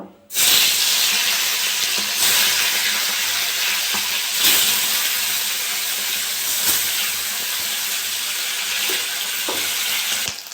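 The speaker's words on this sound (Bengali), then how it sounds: "আমি এবার সর্ষের তেল দিয়ে দেবো। তেলটা গরম হয়ে গেছে, মাছটা ভেজে নেব।" Folui fish frying in hot mustard oil in a kadai: a loud, steady, close sizzle with a few sharper crackles, holding for about ten seconds with no talking.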